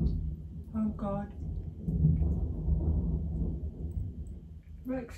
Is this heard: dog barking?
no